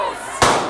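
A single sharp gunshot bang at a tobacco shop party during a brawl, loud and abrupt, over a background of crowd noise and voices.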